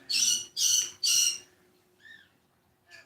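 A pet bird squawking near and loud, three harsh rapid squawks in a row followed by two quieter, higher whistling calls after a pause.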